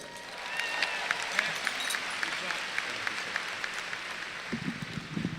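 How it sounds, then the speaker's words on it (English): A graduation audience at a high school ceremony applauds in a dense, steady wash of clapping that carries on for several seconds before a voice begins. "Let's give Dan a big round of applause."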